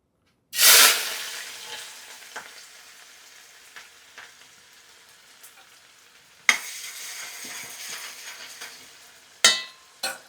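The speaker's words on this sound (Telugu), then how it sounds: "ఉల్లిపాయలు అయితే ఫ్రై అవుతున్నాయి." Sliced onions hitting hot oil in a home kitchen, a loud initial sizzle that settles into a steady frying hiss, broken by a few clinks and scrapes and two later bursts of louder sizzling.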